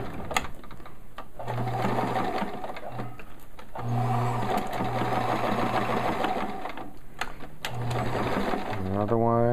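A sewing machine chain-pieces fabric pieces one after another, its motor whirring in repeated bursts of stitching with short pauses between, close and steady throughout.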